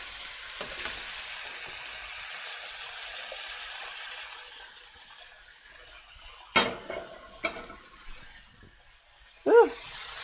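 Water with nori being drained from a pot in a home kitchen, a steady pouring rush for several seconds that fades out, followed by a few sharp clanks of the pot.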